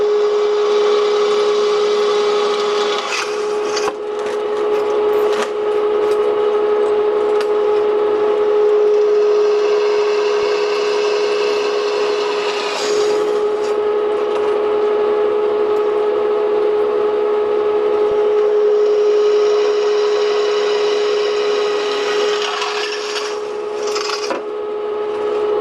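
A countersink bit grinds steadily into drilled rivet holes in metal at a waterways museum, a continuous rasping whir with a steady tone and brief breaks between holes.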